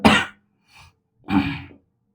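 Two harsh bursts of coughing or throat clearing from someone with a cough, the first loud, then a faint grunt, then a second burst. Nobody talks.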